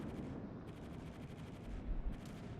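Naval gunfire from a French cruiser, the Charles Martel, in World of Warships: a dense, steady rumble of rapid heavy shots with deep booming thumps near the end, loud throughout and with no talk.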